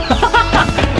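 A chicken clucks several times in quick succession, close and fairly loud, with a short rooster-like call mixed in and no talk over it.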